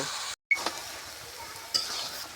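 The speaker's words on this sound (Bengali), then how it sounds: "এবার আমি লাউটাও ভালোভাবে কষিয়ে নিব" Bottle gourd sautéed with spices in a pan over a clay stove, a soft continuous sizzle with a brief cut and a few light scraping clinks of stirring, close and fairly quiet.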